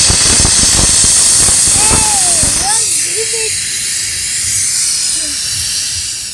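Pressure cooker whistle releasing steam while cooking on a road trip: a loud steady hiss dominates, then eases, with voices talking over it early on.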